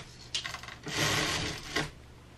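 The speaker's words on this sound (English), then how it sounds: "So I test the blind mechanism." A window blind mechanism is tested inside an RV, giving a short rattling slide and a brief whirring scrape, close and fairly faint, with a final click.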